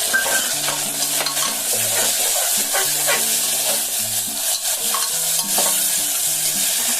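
Chopped onions and a small diced tomato frying and being stirred in a pan, with steady sizzling and repeated scraping stirs throughout, close and fairly loud, no talking.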